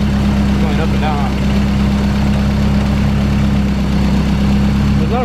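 A car engine idling unevenly with a low steady hum and rumble, its pitch wavering up and down, while people talk over it.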